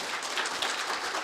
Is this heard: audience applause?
yes